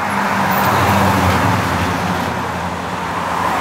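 A four-cylinder Honda car engine at a large Honda meet at the Nürburgring, a steady loud broadband roar with constant road and traffic noise and no pauses.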